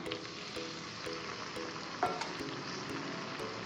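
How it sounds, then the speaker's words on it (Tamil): Onions and tomatoes frying in a pan, a soft, steady sizzle with periodic scrapes and taps of a spoon stirring the mix, plus one brief clink, heard close but quietly without speech. "வெங்காயம் தக்காளி சேர்த்து மிக்ஸ் பண்ணி விட்டுருவோம்."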